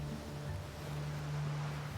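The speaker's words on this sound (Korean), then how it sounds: "와, 너무 오랜만에 들어보는 파도 소리예요." Ocean waves wash onto Namyeol sunrise beach in Goheung, a steady, soft surf with a low, even hum running beneath it and no voices.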